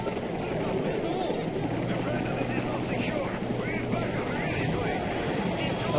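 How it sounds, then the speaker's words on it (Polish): Evacuation helicopters in the war shooter Call of Duty: Modern Warfare 3, a dense continuous rotor and engine roar mixed with gusty battlefield noise, under a voice talking throughout. "Gdzieś dotarły helikoptery ewakuacyjne."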